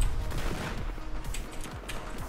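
A Beretta 93R pistol fires rapid bursts in the Battlefield 4 video game, with sharp close shots repeating over a dense, busy combat backdrop.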